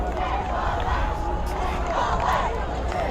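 A rowdy crowd rumbles in the stands at a varsity high school football game between Mead and Frederick, a dense, steady babble of many voices with scattered shouts, continuous and fairly loud throughout.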